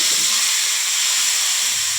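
Tomato sautéing in a hot pan gives a continuous bright hissing sizzle, steady and close, with faint low bumps beneath and no voices.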